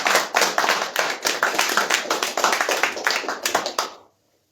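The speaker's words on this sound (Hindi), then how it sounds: "एक बार जोरदार तालियों के साथ इनका स्वागत करें।" An audience at a technical training institute claps steadily and loudly to welcome a guest, a dense run of hand claps lasting about four seconds before stopping abruptly.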